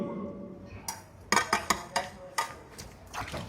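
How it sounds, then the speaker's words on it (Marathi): Dishes and pots being washed give out a run of sharp clinks and knocks, with one cluster close together and more scattered after, over a light watery background. "चकाचक भांडी धुतोय तू"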